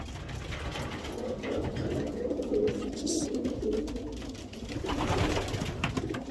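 Racing pigeons cooing in a loft, low soft murmuring coos repeating under faint background noise, quiet and steady throughout.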